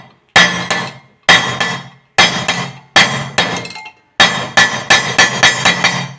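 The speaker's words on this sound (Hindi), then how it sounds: "ऐसे हथौड़े से मिल के चोट करेंगे" A hammer pounds on a three-litre Hawkins pressure cooker during a repair, giving loud, close metallic clanks in quick bursts, roughly a dozen ringing blows with short pauses between groups.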